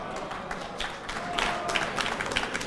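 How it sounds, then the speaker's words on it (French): Audience applause for a singer in an a cappella singing competition: a steady, moderately loud wash of many hands clapping, building slightly toward the end, with no voices on top. "On l'applaudit."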